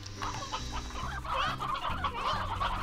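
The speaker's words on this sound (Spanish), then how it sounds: "Hay un montón de gallinas" Chickens in the video game Slime Rancher cluck busily over a looping background music track, with rapid overlapping clucks that stay fairly loud and continuous throughout.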